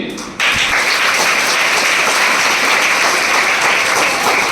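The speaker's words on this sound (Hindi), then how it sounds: "बहुत अच्छा, तालियां हो जाए आपके लिए।" Children in a classroom at a cyber security awareness session break into loud, dense applause that starts abruptly and holds steady as a continuous wash of claps.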